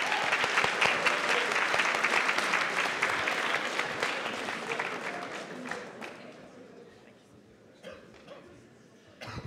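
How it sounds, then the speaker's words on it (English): Loud applause from a hackathon opening ceremony crowd that thins out after about six seconds to a few scattered claps, with some voices and brief noises near the end. "So please give a round of applause and welcome them to the stage."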